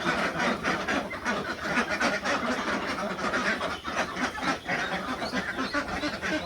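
Itik Pinas ducks, brown and khaki, quack in a busy flock on a duck farm in Davao City, a dense overlapping chorus of nearby calls that goes on without a break.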